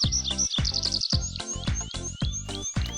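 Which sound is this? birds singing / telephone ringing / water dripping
birds singing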